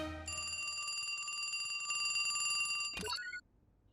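A telephone rings in the Robocar Poli animated cartoon: one continuous bright electronic trill that lasts almost three seconds, then breaks off abruptly.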